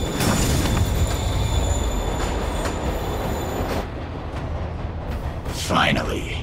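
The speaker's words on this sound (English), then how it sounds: "Train's moving." Train rolling along the tracks in a Spider-Man video game, a steady loud rumble with faint wheel squeal that eases off near the end before a brief swell.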